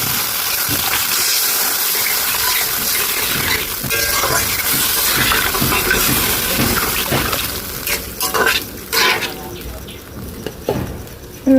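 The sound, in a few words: water poured into fried spices for fish curry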